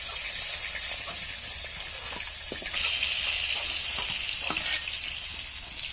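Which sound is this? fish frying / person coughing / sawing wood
fish frying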